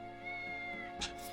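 A cat meowing in the video game Star Ocean The Divine Force, a short tonal meow with a brief rising cry at the end, clear over a quiet steady musical background.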